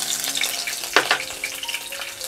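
Garlic goes into hot oil and crackles in the pan, with a brief sharp burst of sizzle near the middle and a steady hiss under it. The sizzle is close and fairly loud.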